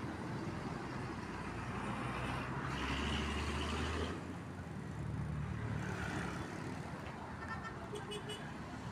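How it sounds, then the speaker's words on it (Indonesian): A Bandung Express long-distance bus bound for Wonogiri passes at a roadside stop, its engine rumble swelling then fading amid steady traffic noise, with a brief horn toot near the end. "Melintas bis Bandung Express, bis legend dari Bandung dengan tujuan ke Wonogiri."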